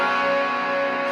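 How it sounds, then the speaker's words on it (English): A clean electric guitar tone rings out through a Fender Super-Champ XD amp, a short sustained chord with steady volume and no talking. "The beautiful tones"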